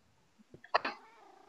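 Brief in-game cat sounds from Minecraft, a short soft meow-like call with a faint purr, close and isolated, lasting about a second without talk.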